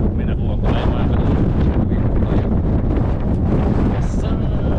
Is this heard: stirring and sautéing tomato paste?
no